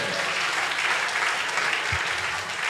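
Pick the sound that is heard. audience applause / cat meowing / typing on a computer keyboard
audience applause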